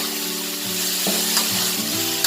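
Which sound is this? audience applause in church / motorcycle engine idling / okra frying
okra frying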